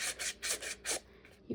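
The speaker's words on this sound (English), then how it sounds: "I'm going to sand and ink both sides" Sandpaper rasps on paper edges in quick back-and-forth strokes, about five firm rubs in a steady rhythm and then a softer one, close and dry.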